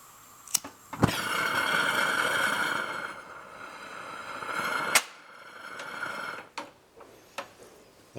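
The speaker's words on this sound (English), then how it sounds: "So let's fire the burner." A burner used to melt pewter fires up with a sharp pop into a loud, steady roar that runs for several seconds, cuts out, then relights amid scattered clicks and pops.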